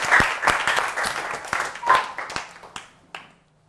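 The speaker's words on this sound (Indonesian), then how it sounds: "Beri tepuk tangan untuk semua kelompok." In a classroom science lesson on plants, students clap for all the presentation groups. Loud, close handclaps come in a quick uneven burst, then thin out into a few scattered claps and fade to silence.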